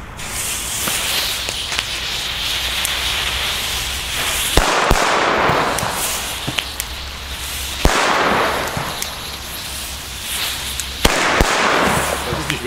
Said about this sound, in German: Jetzt gibt's die China Böller D.